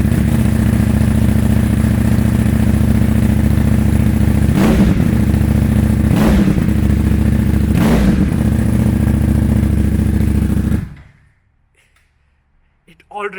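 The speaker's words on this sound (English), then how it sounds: "This particular bike here is running with a full system Akrapovic exhaust" Loud motorcycle fitted with a full Akrapovic exhaust system, rumbling steadily with three sharp throttle blips before cutting off abruptly into near silence.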